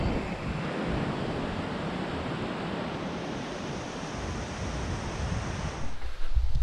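A river runs through an alpine meadow on Cedar Mountain in southern Utah, making a steady, broad rushing wash that stays even throughout and roughens briefly near the end.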